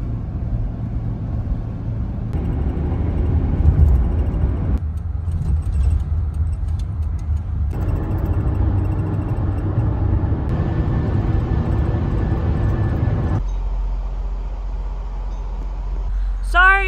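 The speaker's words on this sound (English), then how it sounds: "I'm about to do some driving" A camper van drives along a road in Iowa, its engine and tyre noise forming a steady low rumble heard from inside, with shifts in tone as it changes speed and a brief chirp near the end.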